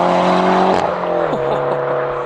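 Peugeot 208 GTI tuned to 340 hp driving, a steady engine drone with stacked harmonics that drops in pitch around a gear change, then settles at a lower, fairly quiet note.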